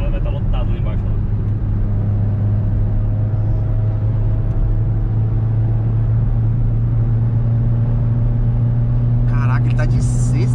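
Renault Sandero RS hatchback accelerating in sixth gear, a steady loud engine drone with a constant low hum heard from inside the cabin, while occupants talk over it.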